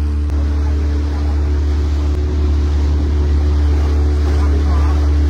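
Tourist motorboat cruising across Ooty Lake, a steady low engine drone with water wash and wind buffeting the microphone throughout.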